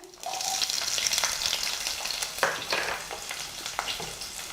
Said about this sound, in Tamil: இப்போது நம்ம கட் பண்ணி வச்சிருக்கக்கூடிய சாம்பார் வெங்காயத்தை அதில் போடுறேன்